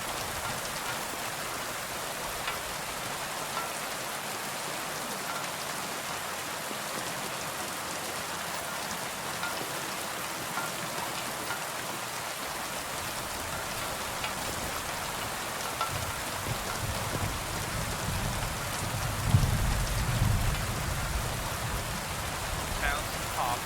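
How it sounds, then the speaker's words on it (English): Rain pours steadily in the medieval video game Kingdom Come: Deliverance II, a dense constant hiss of falling water with faint low rumbles late on, no voices over it. "Kind of crazy how much it's raining."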